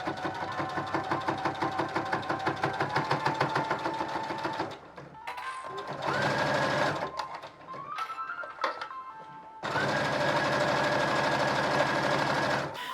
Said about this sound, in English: Then sew all around the top edge and make sure to leave a section unsewn.